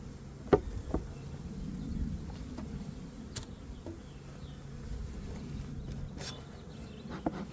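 Honey bees drone in a low, continuous hum around a beehive box in cold late-winter weather, with a few soft knocks on the wooden hive.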